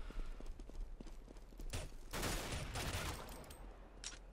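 Pistol gunfire in the video game CS:GO, a quick run of sharp shots followed by denser bursts of fire over game background noise, fairly loud and close.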